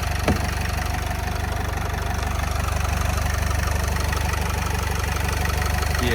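A 2012 Renault Trafic 2.0 diesel engine idles steadily at close range, a low continuous rumble with a faint rhythmic knock throughout and no voices.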